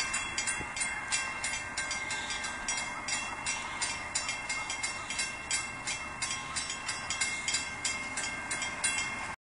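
An Amtrak passenger train rolls past the Oakwood Avenue crossing, its cars producing a steady rhythmic clatter of regular wheel beats over rail joints at moderate distance, with no talk.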